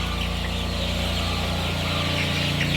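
Chickens on a poultry farm in Ghana cluck in a dense, continuous chorus under a constant machine-like drone. The calls blend together at moderate loudness with no clear speech.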